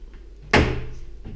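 An apartment door opens with a single sharp knock-like thud followed by a brief creaking swing that fades out, close by and with no talk.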